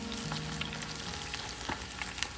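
Bite-sized popcorn chicken pieces hit the first fry in hot oil, giving a steady, close, dense sizzle with small crackles and an occasional stir throughout; no voices.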